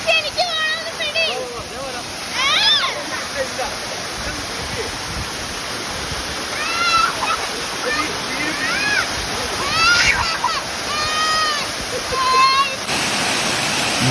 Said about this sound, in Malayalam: ഭയങ്കര രസകരമായ ഒരു മൂടാട്ടോ വെള്ളച്ചാട്ടത്തിൻ്റെ ശബ്ദവും